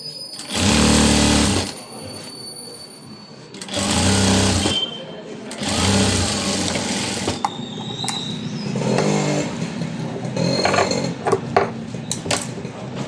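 A sewing machine stitches a long frock in loud, close bursts of rapid mechanical whirring, several runs separated by short pauses, with speech in between.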